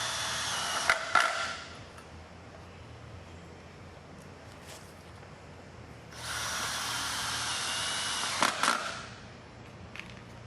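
A power drill drives screws into mounting brackets, two separate bursts of whirring, each lasting about two seconds, with brief handling clatter in between, close and moderately loud.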